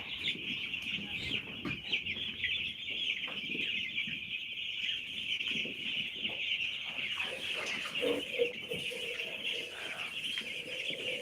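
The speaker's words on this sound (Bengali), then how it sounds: "মুরগিগুলো খেলতেছে আরিয়ান ধরে ধরে খেলতেছে মুরগিগুলো মাসাল্লাহ" A flock of nine-day-old village chickens cheeps and clucks without pause, a dense, steady high chatter close by, with a few louder calls standing out and no clear talk.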